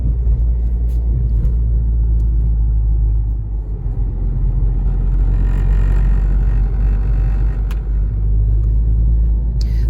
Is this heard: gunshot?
no